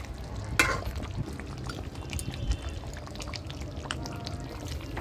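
Garam masala is stirred into chicken frying in a pan over a wood fire, a soft scraping stir over a low, steady sizzle, with one brief louder clink early on.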